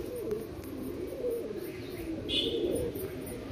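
Pigeons kept by a pigeon dealer coo softly and repeatedly, low and rolling, with a faint higher chirp in the middle, over a steady background hum.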